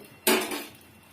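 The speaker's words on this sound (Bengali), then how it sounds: "কড়াটা আমি পরিষ্কার করে নিয়েছি এবং আমি ফ্রেশ তেল দিয়ে দেবো।" A cleaned metal karai cooking pan is handled before fresh oil goes in, making one sharp clank that rings briefly and fades. No one speaks.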